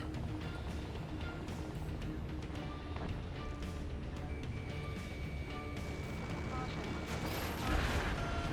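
Dense aerial combat gunfire in Ace Combat 7: Skies Unknown keeps up a constant roar of bursts and explosions, with steady loud rumble throughout and a stronger blast near the end, under radio chatter.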